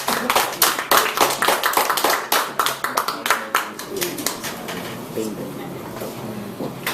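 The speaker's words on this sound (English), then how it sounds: "Let's give her a round of applause." Applause at a Toastmasters club meeting, sharp and close at first with distinct individual claps, then thinning and fading into softer scattered clapping as a voice begins speaking.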